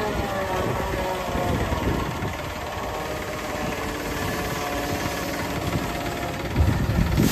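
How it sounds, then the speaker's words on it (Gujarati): A tractor-mounted forage cutter chopping maize for silage gives a loud continuous engine drone and mechanical roar, steady throughout with a brief surge near the end, no talking. "તો આમ કટિંગ કરીએ આમાં મકાઈ સાઈલેજ બનાવવા."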